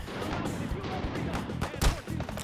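A .45-70 rifle fires in the VR shooter Hot Dogs, Horseshoes & Hand Grenades, with a loud close blast near the end amid ongoing game gunfire and a talking voice.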